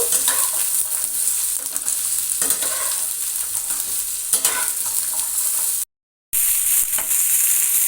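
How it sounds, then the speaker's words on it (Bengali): Pumpkin, eggplant and potato pieces fry in a pan while being stirred, a loud continuous sizzle with scraping stir strokes, cut by a short silent gap near the end. "কুমড়ো বেগুন এবং আলু সবজিগুলোকে ভালো করে ভেজে নেব"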